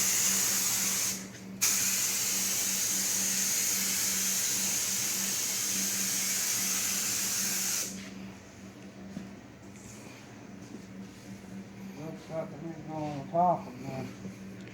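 A spray gun hisses steadily while painting a 1980 Dodge D150 truck, loud and continuous with a brief pause, then it stops and people talk over a low background hum.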